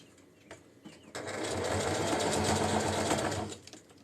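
Sewing machine on its largest stitch setting running steadily as it stitches a polyester fabric lining into a granny square tote, a continuous close whirring hum that starts after a couple of brief taps and stops abruptly.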